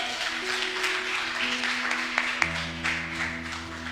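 A church congregation claps at the end of a worship service, a soft scattered patter of hands under a sustained keyboard chord that shifts lower midway.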